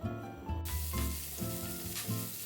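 Ginger slices hit a small amount of hot oil over medium heat and sizzle in a steady, close frying hiss with faint stirring, while soft background music plays underneath.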